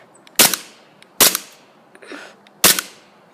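Three sharp, loud Glock 23 pistol shots fired up close, spaced irregularly about a second apart, each a hard crack with a short ringing tail and nothing else in between.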